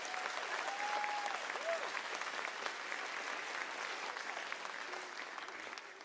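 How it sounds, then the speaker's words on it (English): A church congregation applauds with sustained, dense clapping at a moderate level, with a few brief whoops or voices rising above it, gradually tapering slightly toward the end. "So give them a round of applause for bringing me in"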